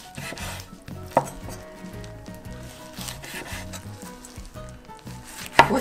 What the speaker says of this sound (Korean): 아니 기름을 안 발라도 잘 썰리네